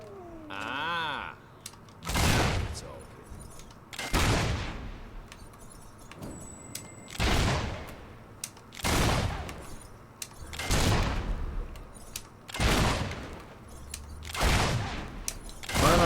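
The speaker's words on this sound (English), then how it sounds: "Why am I using this gun?" Repeated loud bursts of gunfire from the video game Fable 3, arriving roughly every two seconds as sharp broadband blasts with decaying tails over a low background hum.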